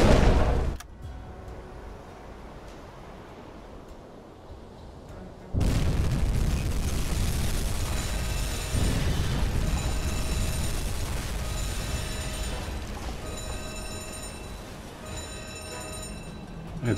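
Torpedo explosions strike cargo ships in a U-boat submarine video game, a loud opening burst, then a heavy boom with a long rumbling roar that fades slowly, followed by a second, softer impact.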